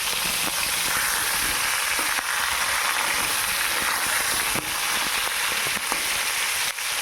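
Pointed gourd (potol) frying in a pan: a loud, continuous hissing sizzle with scattered crackling pops and a few sharper spits, close and steady, no talking.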